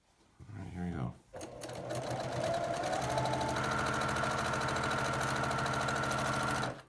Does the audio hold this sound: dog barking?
no